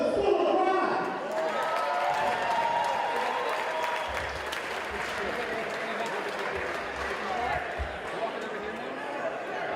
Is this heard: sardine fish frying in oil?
no